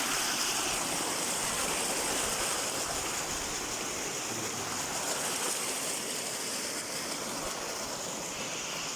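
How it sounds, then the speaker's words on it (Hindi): A natural waterfall in Kashmir pours in a steady, full rush of water, loud and continuous throughout with no voices over it. "ये है कुदरती पानी जो आपका आ रहा है"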